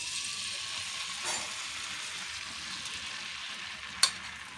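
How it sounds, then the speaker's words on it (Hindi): Eggs laid into three to four tablespoons of hot oil in a frying pan give a steady, close sizzle and crackle, with a sharper pop near the end and no talking. "एग फ्राई करने के लिए, बस इस पे हमने ऑयल डाल दिया फ्राई पैन में अपने 3 से 4 टेबल स्पून, और अब ये एग्स बिछा दे रहे हैं इस पे,"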